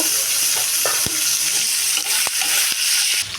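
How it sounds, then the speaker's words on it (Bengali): Chopped onion and green chili fry in a wok with whole garam masala, producing a loud, continuous close sizzle broken by sharp scraping knocks of a stirring spatula. "ভালো করে পেঁয়াজ লঙ্কাটাকে ভাজা হতে দেব"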